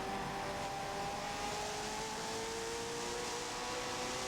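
A McLaren hypercar engine drones at a steady high pitch during a lap at COTA in a racing video game, with a sustained even tone that is fairly quiet and plays without talk.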